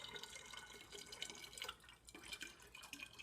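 Water kefir poured into the center of a funnel, a faint, steady trickle of liquid with light splashing and dripping throughout.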